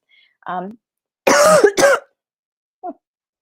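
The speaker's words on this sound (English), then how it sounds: "bit of a cough" A couple of sharp, loud coughs close up, preceded by a short bit of talk and followed by a faint brief vocal sound.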